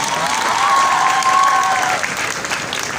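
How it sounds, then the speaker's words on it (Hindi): A crowd at a college program in Bhakkar bursts into continuous, loud applause. A thin whistle rises over the clapping midway through, and the noise eases slightly toward the end. "मेरी दरख्वास्त पर एक दफ़ा तालियां और हों,"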